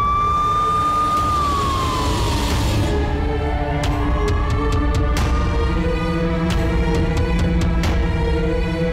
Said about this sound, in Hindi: एम्बुलेंस भी आई थी किसके लिए